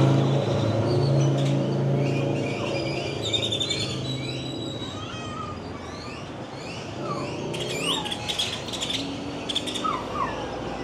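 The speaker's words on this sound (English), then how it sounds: "I don't know if you guys can hear that. Those are birds." Birds in Jaco, Costa Rica chirp and whistle repeatedly in a busy outdoor street scene, with clear sharp calls over low traffic rumble and background hum.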